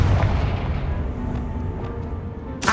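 Confringo spell blast in Hogwarts Legacy, a dense, booming rumble that stays loud throughout and ends with a sharp crack.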